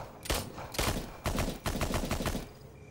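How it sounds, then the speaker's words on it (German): Rapid bursts of gunfire in the online shooter game Nether, several loud volleys of shots with short gaps between them, no talking. "Ich höre hier auch andauernd Schüsse."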